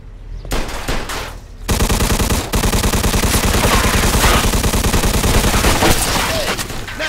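Rapid automatic gunfire in the Mafia II video game, a dense loud rattle of bursts that runs almost without pause after a short opening shot and lull.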